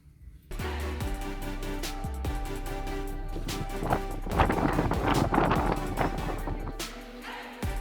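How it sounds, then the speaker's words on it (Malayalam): Strong wind at coastal salt pans near Thoothukudi buffets the microphone in a continuous low roar, gusting louder midway with rattling and thumping underneath. "അതിഭയങ്കരമായിട്ടുള്ള കാറ്റാട്ടോ ഇവിടെ."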